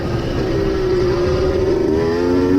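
Engine of a KTM motocross motorcycle on a dirt track, a steady loud drone with a rising pitch line as another rider's bike creeps up close from behind, continuous with no talk.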